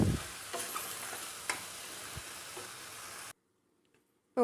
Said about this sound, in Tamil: நல்லா கிளறி விட்டு மூடி வச்சிடலாம்.